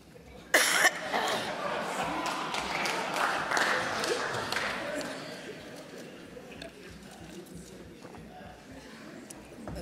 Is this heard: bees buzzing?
no